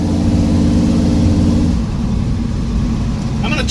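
A 1971 Chevy C10 pickup's engine drones loudly and steadily while driving, its low rumble easing slightly partway through, with a brief higher sound near the end.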